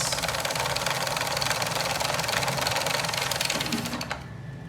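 A turnip is turned against a Japanese mandolin slicer, making a fast rapid rattling, buzzing cut that runs steadily and loud, then stops abruptly near the end, leaving quieter room tone.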